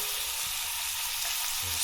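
Flounder pieces sear in a hot frying pan, giving a steady, close hiss of sizzling oil with faint stirring scrapes and no voices.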